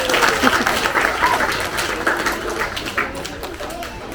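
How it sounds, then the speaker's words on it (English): Audience clapping at a saltwater crocodile show at a wildlife park, a steady moderate patter of many hands that tapers slightly toward the end. "Give him a clap, guys."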